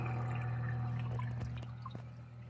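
Water trickling and dripping from the outlet of a kalkwasser stirrer on a 90-gallon reef tank, with faint scattered drips over a steady low pump hum, quiet and close.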